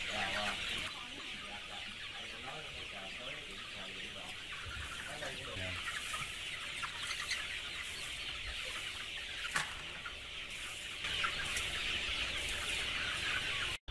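A flock of chickens cluck continuously inside a poultry house on biological litter bedding, dense overlapping clucks and chatter close by with no break throughout.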